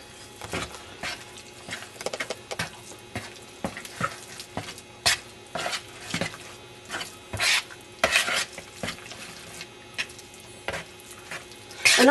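A spoon stirs pepper and garlic salt into a lasagne mixture in a pan, with repeated scraping and clinking strokes in an uneven rhythm, close and moderately loud, with no talking.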